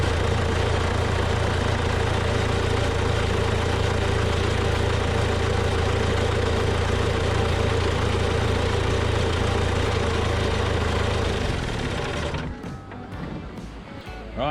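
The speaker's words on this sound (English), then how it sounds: "Right, so we've run the tractor." A John Deere 6310 tractor engine runs after an oil change, holding a loud, steady idle close by for about twelve seconds before it shuts off and falls quiet.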